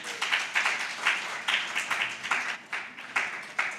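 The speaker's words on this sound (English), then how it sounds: "Please, can we clap for her?" Crowd applause at a women engineers and scientists conference in Kigali, welcoming a panelist: steady, dense clapping from many hands with rhythmic surges, moderately loud and filling the room.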